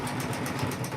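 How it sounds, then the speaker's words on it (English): A Janome M17 embroidery machine stitches an in-the-hoop quilt block with a rapid, even mechanical whir and a fast pulsing rhythm, close and continuous through the brief moment. "Yeah, it's sewing that."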